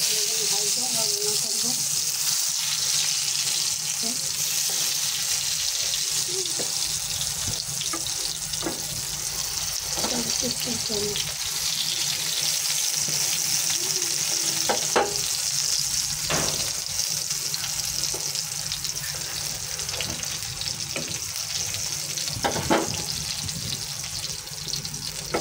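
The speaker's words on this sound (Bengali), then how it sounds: "এখানে বেগুন ভাজতেছি" Eggplant frying in a pan during a home lunch cook, a steady broadband sizzle and hiss running throughout with occasional scraping and clinks from stirring, close and fairly loud, with a faint voice now and then.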